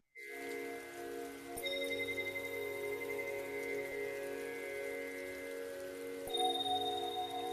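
Steady rain falls softly and continuously beneath sustained calm meditation tones, faint and even throughout with no voices.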